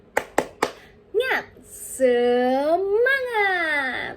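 A group claps several sharp beats in quick rhythm, then voices chant a drawn-out call word in a classroom learning session, the claps loud and close before the sung response.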